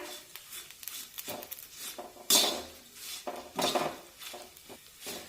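Cumin seeds roasting with green chillies in a pan for a chilli thecha: quiet, close clinks and scrapes of a spoon stirring against the pan at an uneven pace, with a soft sizzle beneath.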